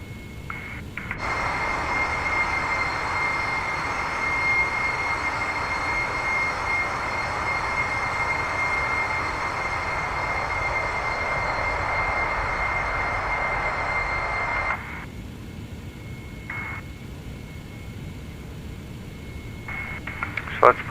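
Airliner engines of a TFDi Design MD-11 in Microsoft Flight Simulator, a steady loud broadband roar with a whining tone that drops to a quieter, lower drone near the end, heard alone with no talk.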